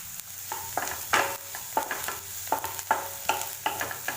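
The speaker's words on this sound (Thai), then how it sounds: "ผัดไปค่ะหัวหอม" Onions for a potato and pea curry are stir-fried in a pan: a soft sizzle under a rhythmic series of spatula scrapes and taps against the pan, roughly twice a second, close up with no talk.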